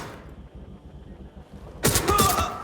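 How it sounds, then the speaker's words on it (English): Gunfire in Watch Dogs: Legion erupts after a quiet stretch as a sudden loud volley of shots, close and crackling, lasting to the end. "They're shooting at us."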